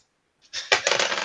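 Dice clatter and tumble across a table during a tabletop game, a sharp burst of rattling clicks that starts abruptly and keeps skittering for under a second.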